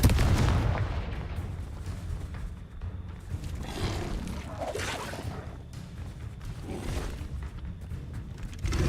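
Spell blasts from the Hogwarts video game boom in quick succession, heavy muffled bursts recurring every second or two amid a dense rumbling game soundtrack.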